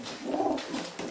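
Racing pigeons coo in a loft in Trzcianka, Poland, a soft, low throaty coo rising and falling, close by and brief.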